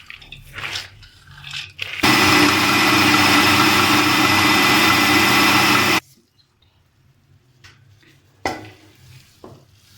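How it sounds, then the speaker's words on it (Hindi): An electric grinding machine whirs loudly for about four seconds, grinding a soaked urad dal mixture for Punjabi vadiyan, starting and stopping abruptly, with quiet handling and clinks before and after. "अब क्या करना है कि इन तमाम चीज़ों को हमने मशीन में अच्छी तरह पीस लेना है"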